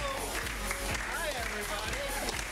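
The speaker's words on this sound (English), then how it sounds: "give us another round of applause" A comedy-club audience at Curious Comedy applauds the improv team Hood taking the stage, a steady wash of clapping that persists for the whole stretch, mixed with cheers and voices.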